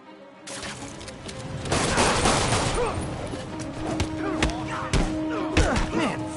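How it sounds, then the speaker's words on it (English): Gunfire in a Spider-Man video game: a sustained fusillade of shots and thuds from about half a second on, loud and dense, with sharp louder bursts near the end and game sound layered underneath. "Somebody just shoot him!"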